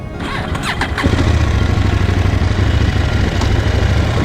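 A KTM Duke motorcycle engine cranks over and fires at about one second, settling into a steady, close, loud idle with a low rumble and no talk.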